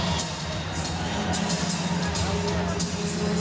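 Spectators at a Kitchener Dutchmen versus Cambridge Winterhawks junior hockey playoff game applaud and cheer as a penalty is called. The crowd noise is a steady, diffuse wash of arena sound under a play-by-play announcer's voice.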